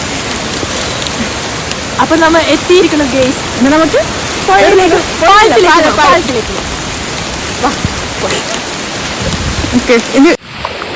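Heavy rain pours steadily beside an overflowing stream, a dense hiss throughout, with people talking over it and a dog barking intermittently.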